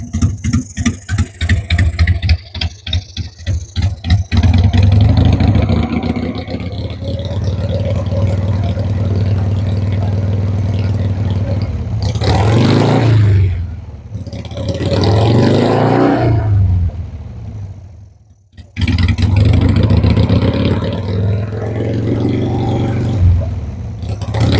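Motorcycle engine idling while warming up before the first ride of spring, a loud, steady close-up rumble with a couple of brief blips in revs and a short dropout partway through.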